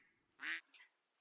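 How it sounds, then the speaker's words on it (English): A duck gives two short quacks, a longer one followed by a brief one, heard alone and fairly faint in a quiet setting. "the duck says"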